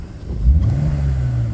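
A Porsche 997 engine with fly-by-wire throttle, revved through its vacuum-driven linkage during fault checking, rises from a low rumble into a sustained, steady rev, close and fairly loud, with no voices.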